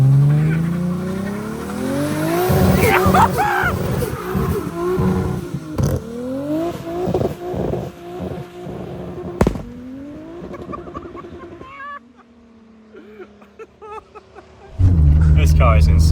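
A 1000 hp single-turbo Toyota Supra with an automatic gearbox accelerates hard, its engine note climbing through repeated upshifts, with tire squeal and a sharp pop before a heavy low rumble at the end; voices speak over parts of it.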